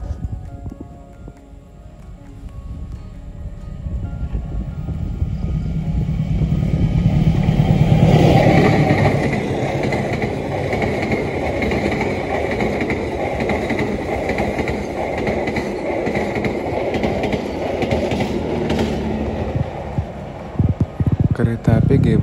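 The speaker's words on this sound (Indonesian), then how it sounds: "Kereta api Gaya Baru Malam Selatan sudah melintas di depan kita" The Gaya Baru Malam Selatan train rumbles past near Gancahan, rising to a loud, close roar before settling into a sustained rolling clatter of wagons, with a voice faintly over it.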